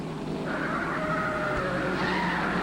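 A 1951 race car's tires squeal in a sustained skid over steady engine roar at Langhorne, close and fairly loud, with no distinct impact.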